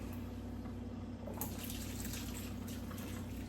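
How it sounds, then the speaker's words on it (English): Water runs and gurgles steadily into an empty bean can, a continuous low splashing flow with a faint hum underneath. "I just kind of push down, fill it with water."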